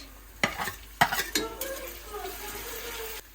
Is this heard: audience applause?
no